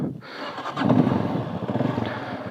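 A Forte Cross 250 motorcycle engine runs during a ride, a close, steady rumbling drone that swells briefly, then holds with a slightly pulsing throb.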